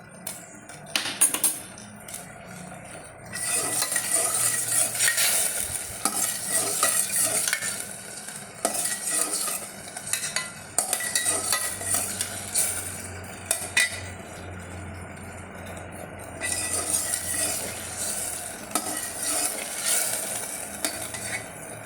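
Lentils tipped into boiling liquid for a Kerala chickpea payasam, followed by steady stirring and scraping in the pan over a constant bubbling sizzle, with occasional utensil clinks against the metal.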